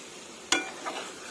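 A spoon scrapes through liver fry in a pan after kasuri methi goes in, one sharp stirring clack followed by a soft scraping swirl over a faint sizzle.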